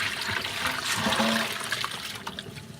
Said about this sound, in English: And let the water fall out.